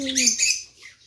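Pet birds chirp in short, bright calls at a home in Taiwan beside a swimming pool being cleaned, a quick burst of tweets close by that fades after about half a second.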